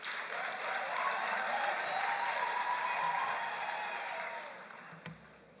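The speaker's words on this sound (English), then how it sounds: "let's give them a warm round of applause" A graduation audience claps for the new graduates in a large hall, a full sustained round of applause that fades toward the end.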